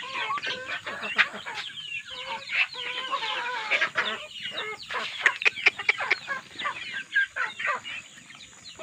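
A flock of Rhode Island Red and Darag chickens clucks and chatters nearby, with continuous overlapping calls and occasional sharper squawks.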